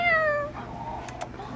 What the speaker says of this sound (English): Make it meow again.